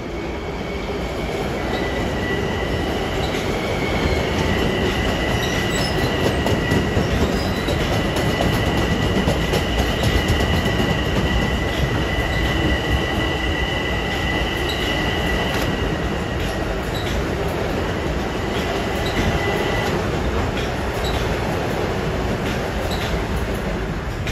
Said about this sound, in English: I can hear roaring diesels to the west